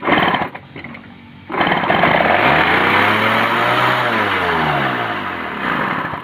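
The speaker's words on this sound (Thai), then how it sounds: "ก็แปลว่าเครื่องยนต์ติดครับผม" After a brief quiet moment, a small motorcycle engine running without a carburetor sputters to life close by, revs up with a rising whine, then eases back toward a rough idle.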